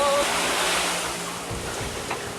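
A sailboat moving through waves on a windy day, with a steady wash of water and wind rush against the hull, close and continuous.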